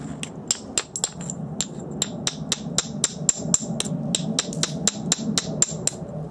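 A stone spall is struck repeatedly against a small stone anvil to shape its edge: a quick, close series of sharp, clacking knocks, about seventeen in six seconds, at a brisk, slightly uneven pace.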